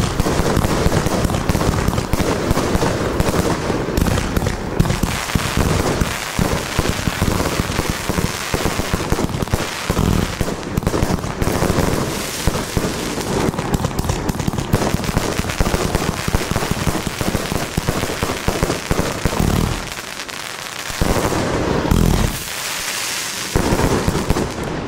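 A compound fireworks battery firing large 30 mm breaks, a dense, loud, unbroken barrage of booming and crackling bursts that keeps going with only brief dips near the end.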